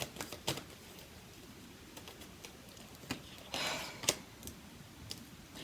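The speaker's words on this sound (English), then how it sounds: "I shuffle the cards." A deck of tarot cards is shuffled by hand, producing quick, soft clicking and pattering taps with a brief louder flurry midway, close up and without talk.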